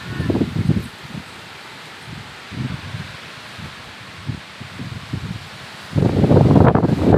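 Gusts of wind rush through leaves in uneven bursts. A loud, sustained surge near the end sweeps through the foliage close by.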